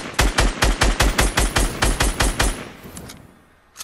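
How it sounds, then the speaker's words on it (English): Close, loud automatic gunfire in Fortnite: a steady rapid burst of about a dozen evenly spaced shots runs for two and a half seconds, then stops and leaves a faint tail. "I shot him down."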